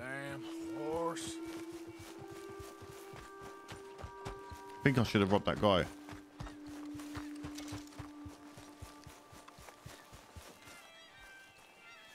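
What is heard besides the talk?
horse hooves in video game Red Dead Redemption 2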